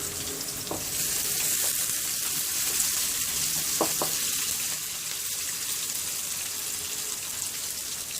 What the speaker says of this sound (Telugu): బొమ్మ చట్నీకి ఎక్కువ వేగాల్సిన అవసరం లేదండి ఆనియన్